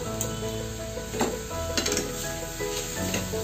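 Palm pulp and melting sugar stirred with a metal spatula in a pan, a dense bubbling sizzle with a few scraping strokes against the pan, close and steady.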